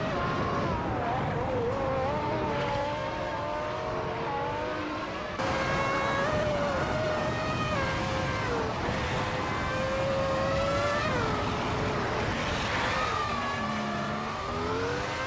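Race cars including a Simtek S9 roaring in a racing video game, a continuous whining engine drone rising and falling through gear changes, steady and loud with no pauses.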